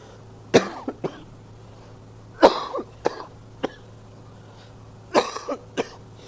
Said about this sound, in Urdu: میری کھانسی کی آواز آپ کے کانوں پر اگر بار گزرے